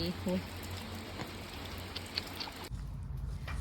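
Steady rain hisses throughout with faint voices at the start; near the end the hiss drops away abruptly to a low rumble.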